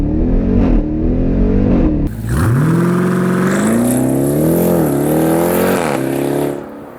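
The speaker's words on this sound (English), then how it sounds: "to engage launch control, you push that there button, you lift the revs" A 2018 Jeep Grand Cherokee Trackhawk SUV runs a launch control start, idling briefly before the engine flares and roars loudly up through the revs as it accelerates hard, then cuts off near the end.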